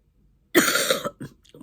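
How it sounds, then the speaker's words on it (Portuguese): A single harsh cough close to the microphone, followed by two shorter throat-clearing coughs, in an otherwise quiet room. "um pouquinho de paciência comigo que eu ainda vou ficar tossindo"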